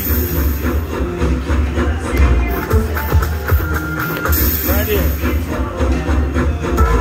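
A slot machine plays its train bonus effect, with a rumbling chugging rhythm, hissing steam bursts and clattering wheel-like clicks in a busy casino, while a player talks excitedly over it.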